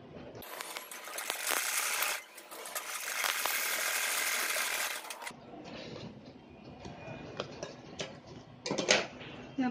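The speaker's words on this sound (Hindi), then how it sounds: "इसके ऊपर सिलाई करेंगे एज पे" A sewing machine stitches along the edge of a zippered cosmetic pouch in rapid mechanical bursts, close and fairly loud, with a quieter stretch of handling and clicks toward the end.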